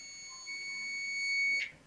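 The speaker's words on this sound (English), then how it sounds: "when we connect this probe each other, the sound will be generated like this" A digital multimeter in continuity buzzer mode gives one steady, fairly loud high-pitched beep when its two probes touch, lasting about a second before cutting off, with no speech.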